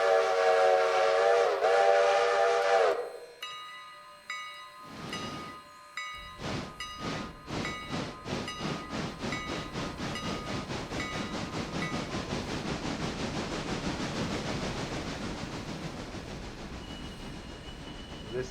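A steam locomotive in the train game Railroader sounds its whistle for about three seconds, falls quiet, then starts chuffing forward with slow exhaust beats that speed up into a steady, quickening rhythm over a rolling rumble.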